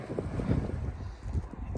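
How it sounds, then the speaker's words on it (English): Wind blows outdoors in gusty low rumbling buffets against the microphone, close and moderately loud, in a short burst with no clear voices. "It's so windy!"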